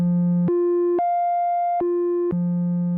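A Minimoog Model D oscillator holds a pure, steady tone that steps up through several pitches, lingers on the highest, then steps back down, each step a sudden jump with no other sound.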